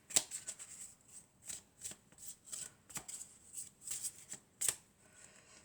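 Tarot cards are shuffled by hand in a quick run of soft riffling bursts, close and fairly quiet, with no talking.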